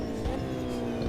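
A race car engine in the Automobilista 2 sim racing game, tested on beta tire physics, drones loudly and steadily at close range in a brief burst.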